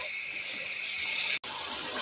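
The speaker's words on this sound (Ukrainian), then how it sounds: "навіщо я додаю води до фаршу, коли отак обсмажую" Water added to minced meat frying in a pan gives a loud, steady hiss of sizzling that runs throughout and is broken by one very brief dropout.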